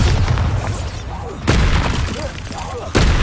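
Bombarda spell blasts in Hogwarts Legacy erupt as loud booming explosions, two sharp onsets about a second and a half apart each spreading into roaring, crackling debris that fills the space, with a voice shouting over the din.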